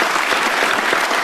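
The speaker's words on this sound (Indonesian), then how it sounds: "boleh diberikan tepuk tangan Pak Jokowi" A studio audience on a talk show applauds President Jokowi with dense, loud, even clapping that lasts a little over a second.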